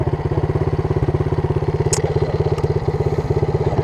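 A dirt bike engine runs with a fast, steady pulsing chug, loud and close throughout, with a brief faint high squeak over it.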